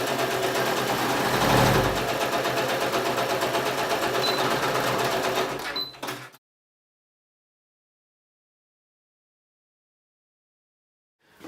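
Sewing machine stitching a trouser side seam, a steady close mechanical whir running for about six seconds before stopping abruptly into silence.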